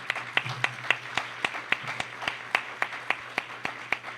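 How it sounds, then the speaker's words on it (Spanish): A church congregation gives applause to the Lord, with slow, evenly spaced, sharp claps in a steady rhythm, fairly close, joined by a low hum. "Vamos a darle un aplauso al Señor."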